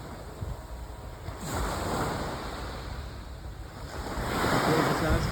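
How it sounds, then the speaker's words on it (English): Surf washing onto Moonlight Bay beach at Batu Ferringhi, Penang, Malaysia, rising in two broad swells over steady wind noise, with no voices. "The Moonlight Bay Beach area, very private beach."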